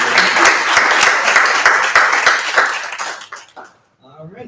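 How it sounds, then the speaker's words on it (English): An audience at a bookstore author event applauds loudly and steadily, then the clapping thins and fades out, with a voice starting to speak at the very end. "I want to give you another giant round of applause for you"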